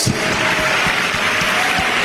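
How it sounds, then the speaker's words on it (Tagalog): Church congregation clapping together during a second church anniversary worship service, steady dense applause filling the room with a few louder claps standing out. "Palakpakan natin pinakamamahal na Jesus!"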